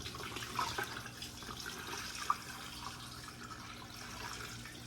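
Water pouring into a fish tank makes a soft, continuous splashing wash, quiet and steady with one faint tap partway through.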